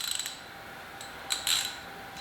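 A ratchet wrench tightening the bottom bolts of a Gunner G1 dog kennel, a short burst of close clicks, then sparse metallic clicks and scrapes against a quiet room.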